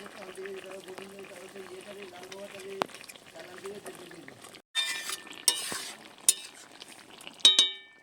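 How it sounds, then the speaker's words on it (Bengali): A spoon stirs a pointed gourd and shrimp curry in a pan, giving a few sharp clinks and scrapes in the second half after a steadier, humming stretch at the start. "একটু নেড়ে চেড়ে নেব।"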